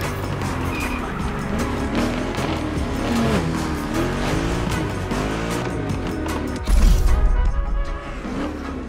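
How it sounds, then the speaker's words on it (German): A Nissan 370Z Nismo driven in The Crew Motorfest gives a steady engine drone with shifting pitch and a sharper, louder surge near the end, with tire noise mixed in. "In diesem Workshop wirst du den ach so hübschen Nissan 370Z Nismo fahren"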